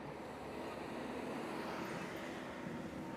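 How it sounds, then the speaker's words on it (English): Traffic passing along a road in Vietnam gives a steady, faint, broadband roar with no distinct individual pass-bys and no voices. "wait till the cars clear off."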